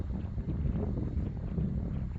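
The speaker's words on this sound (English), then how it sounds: "it is quite windy" Wind buffets the microphone on an open, muddy field under a moving sky, a steady low rumbling roar that stays fairly quiet and continuous throughout.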